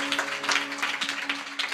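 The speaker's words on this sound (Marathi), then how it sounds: "टाळ्या वाजवा जोरदार या मंडळींसाठी." An audience claps at a Marathi kirtan, a steady patter of hand claps throughout, moderately loud, over a faint sustained drone tone.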